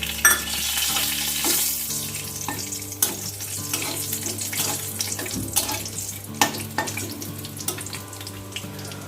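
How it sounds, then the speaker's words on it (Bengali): Whole spices crackle and sizzle steadily in lightly heated oil for a Bengali mutton curry, a dense close frying hiss with sharp pops and stirring clatter throughout, no talking. "ফোড়নটা কয়েক সেকেন্ড ভাজা ভাজা হবে"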